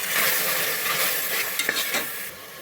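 Ground spice paste and onions sauté in a pan for meal maker rice, giving a continuous loud sizzle with a few scraping stir strokes near the end.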